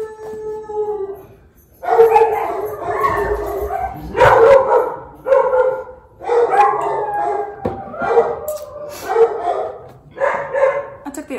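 Several pet dogs bark, yip and howl indoors, loud and close, in repeated bursts with short pauses between them. No one talks over the barking.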